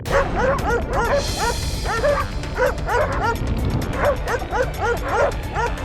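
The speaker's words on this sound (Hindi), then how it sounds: "भौंकना बंद।" Several dogs bark in a courtroom scene of a TV drama, a rapid, overlapping run of loud yips and barks that keeps going steadily throughout.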